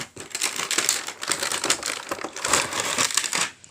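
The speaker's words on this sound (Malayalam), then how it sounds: "ഈ ട്രെയിൻ നമുക്കൊന്ന് പൊട്ടിച്ച് നോക്കാം." Plastic and cardboard packaging of a toy train being torn open and crinkled, a close, busy run of rustling and crackling bursts lasting a few seconds with no talking.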